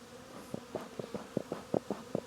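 Honeybees crowding the bottom entrance of a hive after a Demaree split, heard as a string of short, faint buzzing bursts at a fairly steady pace, close to the microphone with no talking.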